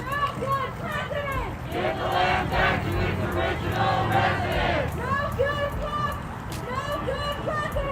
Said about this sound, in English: There's a pretty good sized crowd here.